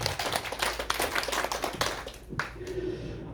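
A church congregation at a Sunday service claps together in a burst of quick, close, uneven hand claps that thin out and fade after a few seconds.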